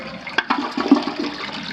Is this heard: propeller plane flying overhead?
no